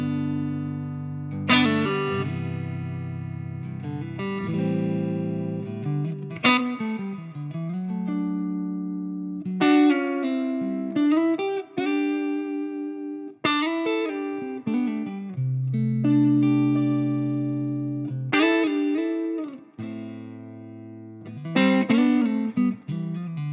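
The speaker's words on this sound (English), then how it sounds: "that's just the straight amp tone with reverb on board" Clean electric guitar notes and chords ring out through an amp with a touch of reverb, played alone in phrases with short pauses between.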